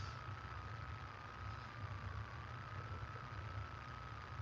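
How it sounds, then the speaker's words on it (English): Van engine idling to generate power, a faint, steady low rumble with a constant mid-pitched hum that runs unchanged through the whole clip, heard alone without talk. "So that is my van idling for power."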